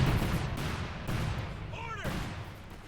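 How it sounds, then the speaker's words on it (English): Cluster bomb strike in the World War II strategy game Company of Heroes 2, heard as a string of heavy explosive bursts and booms with rumbling decay, loud and close over the game's battle ambience. "cluster bombs calling in by Kimbo"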